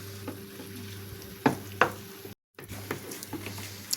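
Bacon frying in a pan, a steady soft sizzle with a low hum underneath, punctuated by two sharper clinks or stirring sounds midway and a brief dropout of silence.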